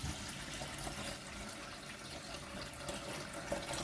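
Running water splashes in a kitchen sink as rice for biryani is washed and drained, a soft, continuous trickle and rush with no talking.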